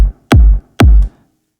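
Two tech house kick drum hits ring out in Ableton, their reverb filtered by EQ Eight, each a tight, deep thump whose tail cuts off cleanly, leaving silence between and after.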